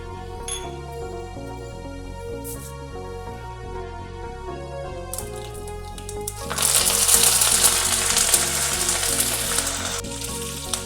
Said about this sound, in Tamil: நெக்ஸ்ட் ஒரு கடாயில எண்ணெயை விட்டு கடுகு, வெந்தயம், கருவேப்பிலை எல்லாத்தையும் தாளிச்சுக்கலாம்.